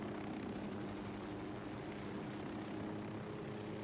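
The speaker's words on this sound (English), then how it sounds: "Is that a helicopter?" A helicopter in the video game Ghost Recon Wildlands flies overhead with a steady, loud rotor and engine drone that holds for the whole stretch and carries no speech.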